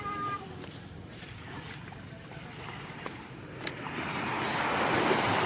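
Big waves break and wash along the shore. The rough surf roars steadily under gusting wind noise and swells louder toward the end, with no talking.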